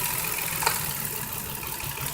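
A car engine idles steadily with one spark plug lead pulled off, a continuous rumbling drone at even level with a single faint tick partway through, no talking.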